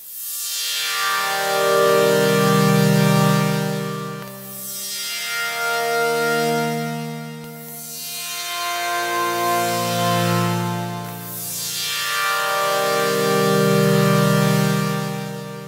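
Lush synthesizer chords in 8-voice mode swell and fade in long overlapping waves, bright and sustained, with no voices.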